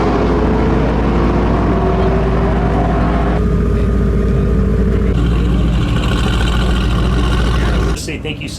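An 800whp Mercedes SLS AMG GTR Pro on a track-day ride-along, heard from inside the car: a loud, continuous engine roar whose pitch shifts as it pulls, ending in a sudden drop near the finish.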